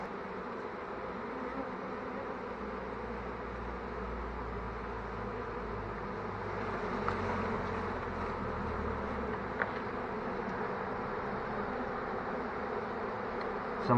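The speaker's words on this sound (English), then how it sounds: "Some of the bees are running straight down into the box" A swarm of honey bees clustered in a wall, their dense, steady buzzing humming continuously at close range, with a few louder passes of individual bees near the middle.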